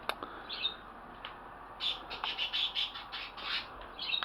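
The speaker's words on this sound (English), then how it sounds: "That is her birds. Her birds are very vocal." Two pet birds, a blue and white one and a green and yellow one, squawk and chirp in a cluster of sharp calls, fairly near and loud against a quiet indoor room with steady hum.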